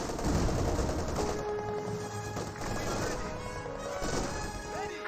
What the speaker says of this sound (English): the MG34s are just ripping them apart